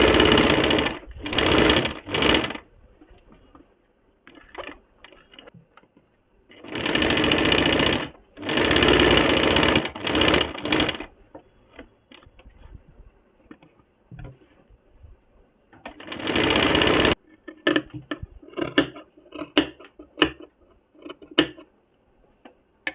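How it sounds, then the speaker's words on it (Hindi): A sewing machine stitches kurti fabric down the middle in three loud, steady runs of whirring stitches. Quieter clicks and handling taps fill the pauses between runs. "इस प्रकार से इसे सबसे पहले बीच में रख के बीच से सिलाई कर देंगे"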